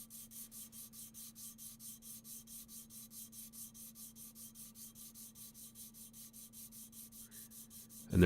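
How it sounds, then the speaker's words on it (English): A knife blade being sanded with sandpaper by hand, a steady rhythmic rasping of quick back-and-forth strokes, soft and even over a faint constant hum, ending in a brief louder knock. "I've switched to sandpaper for some of the fun stuff."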